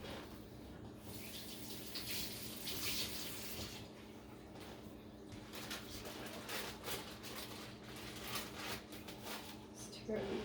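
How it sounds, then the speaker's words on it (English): Tap water running steadily into a kitchen sink while hands are rinsed during meal preparation, a faint continuous splashing hiss through the whole stretch. "Have to rinse my hands"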